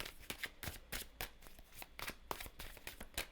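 Tarot cards pulled one after another from a deck, giving a run of quick, crisp papery snaps and flicks at close range with no talking.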